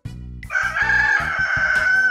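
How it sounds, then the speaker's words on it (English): A rooster crows once in a loud, sustained cock-a-doodle-doo, close and alone, over a soft rhythmic backing beat. "A rooster makes a cock-a-doodle-doo sound."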